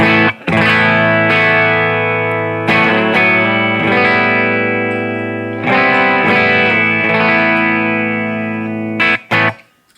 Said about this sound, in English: here's the Telecaster